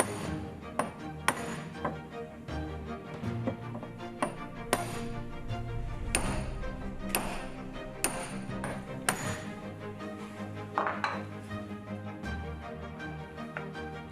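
Sharp metallic strikes of a hammer reshaping stainless steel watch lugs cold on a custom brass jig during a Tudor Submariner restoration, irregular taps and clinks ringing close up with short pauses between blows.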